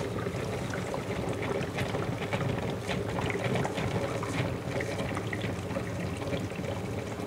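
HHO hydrogen cell with 31 plates, running at about 45 amps, bubbling and fizzing steadily as it produces gas, a continuous close watery churn with no talking.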